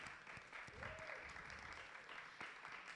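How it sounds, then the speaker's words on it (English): A round of applause for panelist Harriet at a fashion and sustainability panel discussion in Accra: faint, steady clapping from a seated audience, with a brief voice rising over it partway through. "Let's give Harriet a round of applause."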